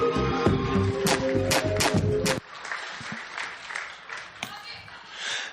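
Youth event crowd breaking into applause, scattered clapping rising under a loud musical tone that cuts off midway, then continuing more softly as a voice speaks over it.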